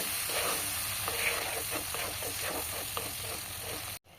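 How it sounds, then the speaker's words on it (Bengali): Potatoes sizzling in a pan with ground coriander and other spices, stirred with steady scraping strokes under a continuous fry hiss, ending abruptly in a brief drop to near silence. "এবার ভালো করে সমস্ত মশলাগুলো দিয়ে আলুটাকে কষিয়ে নেব"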